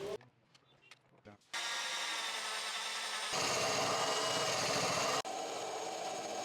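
A power drill bores a hole for a kitchen sink tap, starting after a few brief taps and running as a loud steady whine that grows harsher, then eases.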